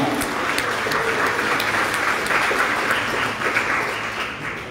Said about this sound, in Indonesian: Tepuk tangan dong untuk pekerja migran Indonesia